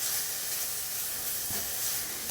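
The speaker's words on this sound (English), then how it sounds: "We'll just make sure our bacon gets rendered." Bacon rendering in a hot pan, a steady, fairly quiet crackling hiss and sizzle that runs unbroken, with no talk over it.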